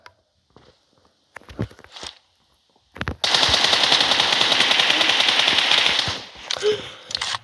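Rapid sustained automatic gunfire from a video game, a loud continuous burst of about three seconds preceded by scattered shots and footsteps, with brief speech nearby.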